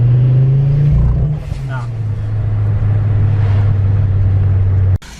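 Car with a turbocharged engine pulling through second gear, a loud close droning engine note that holds steady and rises slightly, with a brief voice over it and a sudden cut near the end.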